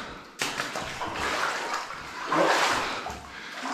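Steady sloshing and splashing of feet wading through shin-deep standing water inside a decaying, unfinished mine tunnel, continuous and close with swells of churning water and no talk.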